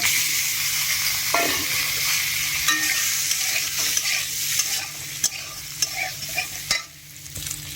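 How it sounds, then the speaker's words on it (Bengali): Potatoes frying in oil left over from frying fish, with a strong close sizzle running throughout and repeated scrapes and knocks of a spatula stirring in the pan, growing sharper toward the end, with no talking. "মাছ ভেজা তেলে আলুগুলো দিয়ে ভেজে নেবো"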